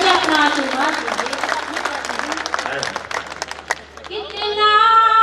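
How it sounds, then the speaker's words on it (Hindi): An audience gives loud, dense applause at a poetry recital during the Senapati Mahotsav in Anupshahr. The clapping thins out after a few seconds, and a sustained musical tone enters near the end. "एक बार जोरदार तालियां बजाकर मुझे अपना आशीर्वाद दीजिए।"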